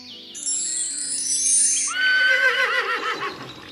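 A horse neighs loudly and clearly in a long, wavering whinny that rises and then breaks into shaky, descending pulses, heard alone with no voices.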